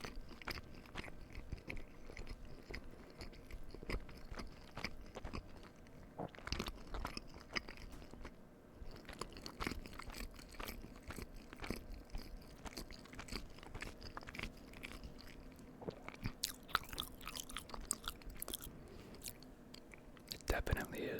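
Four-cheese pizza Hot Pockets being bitten and chewed close to the mic, with repeated crunchy bites and wet mastication sounds, plus occasional soft whispering and a few sharper clicks or scrapes.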